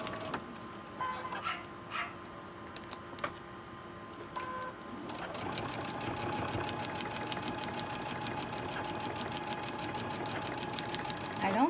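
A sewing machine stitches a seam for a paper-pieced quilt block, starting with a few short bursts over quiet background and then running steadily and loudly for the second half.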